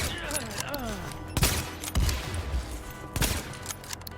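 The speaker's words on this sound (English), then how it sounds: "Sending the enemy a shot." Gunfire in the video game The Division: bursts of shots crack out in clusters near 1.4, 2.0 and 3.3 seconds over a steady game soundscape, with a voice talking early on.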